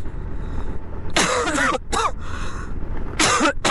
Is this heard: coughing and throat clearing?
yes